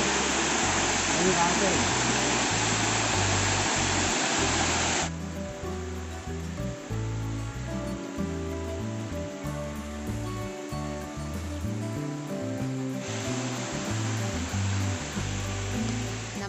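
Monsoon waterfall in the Periyar forest at Thekkady roars as a steady, loud broadband rush of falling water, with a narrator's voice talking over it throughout.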